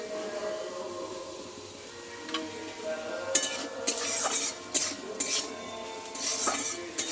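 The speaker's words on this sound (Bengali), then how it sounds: "হলুদ আর লবণটা দিয়ে আমি ভালোভাবে একটু নাড়াচাড়া করে নিয়েছি" Stirring in a pan with salt and turmeric, ahead of adding red amaranth greens, gives a soft sizzle and irregular scrapes and clinks of a spatula against the metal. The sounds grow busier partway through, close by, with no talking.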